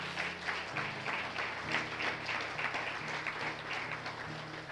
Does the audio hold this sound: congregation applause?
yes